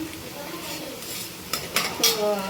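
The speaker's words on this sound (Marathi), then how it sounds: "कांदा बघा फ्रेंड्स आता भाजत आलेला आहे थोडासा ट्रान्सपरंट झाला आहे" Onions sautéing in a pan for pav bhaji, a soft sizzle with a few clinking stirs of a metal spoon against the pan, close and brief, with no talk.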